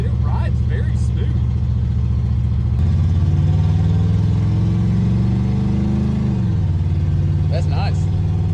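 A long-neglected Pontiac Phoenix drives along with its engine humming steadily, then the pitch climbs and drops cleanly as a gear shift comes through. Constant road and engine rumble fill the background.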